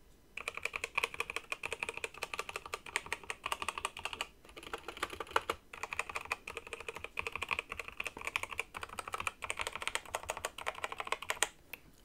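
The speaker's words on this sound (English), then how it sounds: "this is a good opportunity to let you hear what the keys are actually like." Rapid, continuous typing on a light-actuation computer keyboard, dense clunky key clicks close to the microphone with a few brief pauses, no voices.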